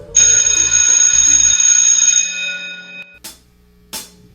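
A school class bell rings with a bright, sustained metallic tone for a couple of seconds, then fades, followed by two short clacking knocks.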